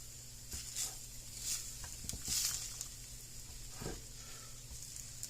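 Diced tomatoes stirred into a tater tot casserole in a hot pan, a gentle sizzle under soft, intermittent spoon scrapes and wet stirring, close and quiet with no talking.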